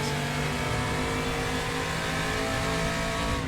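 A 1977-era race car engine in a racing simulator game, droning steadily at high revs with a sustained buzzing tone after a botched gear change, loud and continuous without talk.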